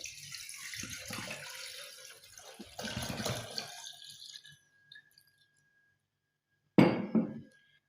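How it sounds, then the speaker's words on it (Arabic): A liter of full-fat milk pours into a pot for a hot Oreo winter drink, with a soft, steady liquid stream for a few seconds, then quiet and a short clatter near the end. "راح نبدي نضيف لتر حليب كامل الدسم"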